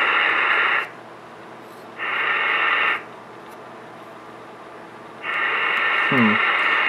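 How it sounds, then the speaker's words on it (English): Ham radio receiver hissing with static in three bursts, each cutting in and out as the squelch opens and closes, with a faint low tone near the end. "You can hear the radio static."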